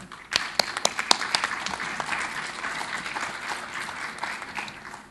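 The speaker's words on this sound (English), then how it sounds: "So let's give an applause to her." Audience applause for a female advisory panel member at a conference on women's financial growth, a steady burst of many hands clapping with sharp individual claps, sustained across the whole stretch.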